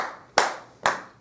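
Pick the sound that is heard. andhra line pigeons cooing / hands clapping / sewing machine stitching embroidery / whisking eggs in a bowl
hands clapping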